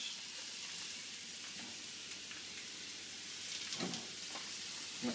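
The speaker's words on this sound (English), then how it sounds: "That's sizzling away." Fish frying in a hot pan gives a steady, even sizzle that hisses continuously, with a few faint pops and clicks of cooking utensils near the end.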